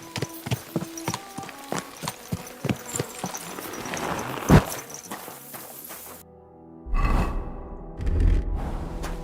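Hooves clip-clop in a steady, close rhythm for several seconds, then the scene cuts to low rumbling noise with faint sounds.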